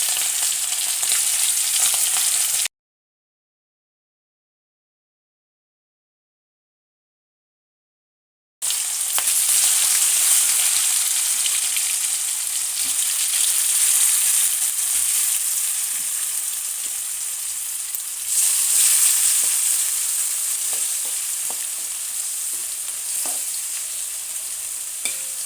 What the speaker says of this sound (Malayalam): ഇനി ഇതിലേക്ക് നമ്മൾ മസാല പുരട്ടി വെച്ചിരിക്കുന്ന ചെമ്മീൻ ഓരോന്നോരോന്നായിട്ട് ആഡ് ചെയ്ത് കൊടുക്കുക.